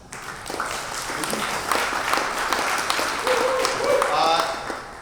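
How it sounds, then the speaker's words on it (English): Applause from an audience at a consumer packaged goods pitch competition in Austin, a steady wash of clapping that holds for several seconds with faint voices mixed in before it starts to taper. "A round of applause, please"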